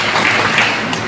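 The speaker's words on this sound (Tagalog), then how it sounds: "Ang dami ng palakpak niyan" A crowd applauds at a Philippine community thank-you event for doctors and volunteers, a dense, steady burst of clapping that fills the short moment.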